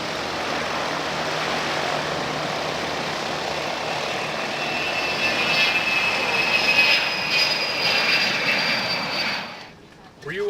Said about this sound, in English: here goes the big jet that was just here